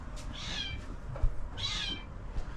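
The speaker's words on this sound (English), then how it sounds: "very upset, hungry barn cat in the loft" A hungry barn cat in a loft lets out two drawn-out, plaintive meows at close range over a low background rumble, with a faint thump between them.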